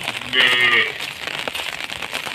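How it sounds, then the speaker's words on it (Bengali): A cow gives one loud, short, close moo on a rural village path in the rain, followed by the patter of ambient outdoor noise. "ওই দেখো গরু"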